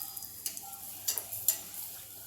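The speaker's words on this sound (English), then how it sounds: "Oil is hot and first ball we have to put in the oil" Bread potato snack balls fry in hot oil over a high gas flame, giving a soft, steady sizzle broken by scattered sharp crackles and pops, heard close and with no talking.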